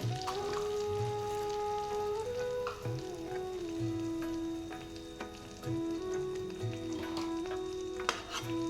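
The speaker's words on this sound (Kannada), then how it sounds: "ಎಣ್ಣೆ ಕಾದಿದ್ದು ಸ್ವಲ್ಪ ಜೀರಿಗೆ ಹಾಕ್ಕೊಳ್ತಾ ಇದ್ದೀನಿ." Cumin seeds sizzle in hot oil with a continuous close crackle and spatter, while steady tonal background music runs underneath.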